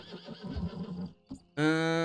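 A horse neighs loudly in the Red Dead Online video game, a sustained whinny closing the clip after a stretch of gunfire-like game noise and a short burst.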